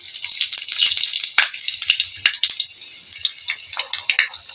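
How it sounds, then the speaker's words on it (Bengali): Whole spices and a torn bay leaf tempering in hot oil in an Indian-style pan, crackling and sizzling loudly and continuously at close range, with bursts of spattering throughout. "একটি তেজপাতাকে আমি ছিঁড়ে নিয়েছি দিয়ে দিলাম তেজপাতার কালারটা চেঞ্জ হয়ে গেছে আমি ফোড়ন দিয়ে দিলাম"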